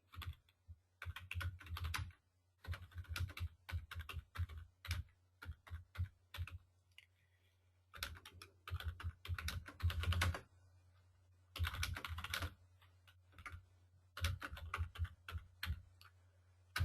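Computer keyboard typing in bursts of rapid, close key clicks separated by short pauses, clear and dry with no talk.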